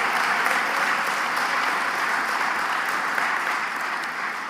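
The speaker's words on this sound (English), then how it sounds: "Can you kindly give them a round of applause" An audience claps in sustained, dense applause at a Biafra foreign affairs ministry team event, steady and fairly loud throughout without voices.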